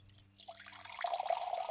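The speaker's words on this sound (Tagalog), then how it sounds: "Kumuha siya ng isa at sinalinan niyo ng tubig." Water from a glass is heard. After a faint start, a soft steady stream pours in with a rising gurgle, quiet and close, with no voices.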